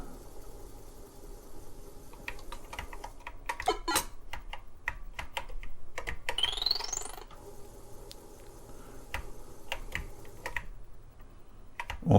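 Keys being pressed on a TRS-80 Model I computer keyboard, an irregular run of sharp clicks close by, with a short electronic whistling sweep from the game in the middle and no talking.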